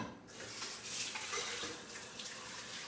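Tap water runs into a pan to soak it after cooking goat milk cajeta, a soft steady splashing rush that stays close and fairly quiet for the whole stretch.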